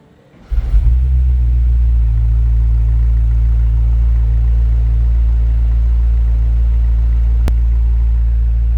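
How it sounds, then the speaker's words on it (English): A 2026 BMW M5 Touring engine cranks and fires, then settles into a loud, deep, steady idle rumble heard from close outside. "actually start the car and I just want you to hear what it sounds like from the outside"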